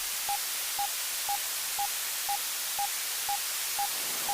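A modular synthesizer patch imitating a radar: evenly spaced short pure blips about twice a second over a bed of hissing white noise, steady and mid-level, with no voices.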